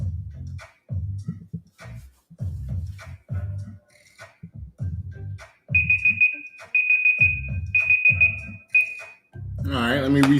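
A timer alarm sounds as a series of repeated high electronic beeps in short bursts, loud and close, between stretches of someone talking.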